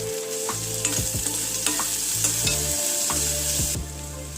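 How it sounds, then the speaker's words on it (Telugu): Curry leaves, onion and green chili slices fry in hot oil in a pan for a gongura curry, a steady close sizzle broken by repeated scrapes and clinks of a spoon stirring, with no voices. "కరివేపాకు ఉల్లిపాయ పచ్చిమిరపకాయ చీలికలు వేసుకుని వాటిని కూడా కొంచెంగా ఫ్రై అవ్వనిద్దాం"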